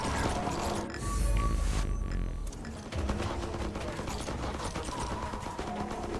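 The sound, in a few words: weapons firing projectiles at zombies in video game FatalZone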